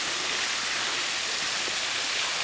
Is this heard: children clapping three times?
no